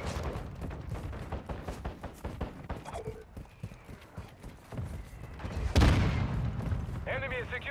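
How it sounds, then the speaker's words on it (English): Mortar strike explosions in the Call of Duty: Modern Warfare II game, with a heavy boom landing near the end amid steady gunfire-like thuds and game voices talking throughout. "Hostile mortar strike incoming."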